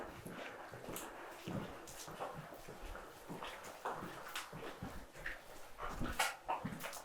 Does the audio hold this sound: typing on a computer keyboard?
no